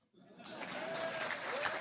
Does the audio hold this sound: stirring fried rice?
no